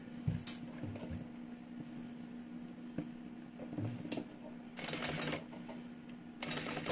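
A domestic sewing machine stitches a fabric mini backpack with a folded trim and half ring tucked inside, a fairly quiet steady whir with louder bursts of fast stitching near the middle and end.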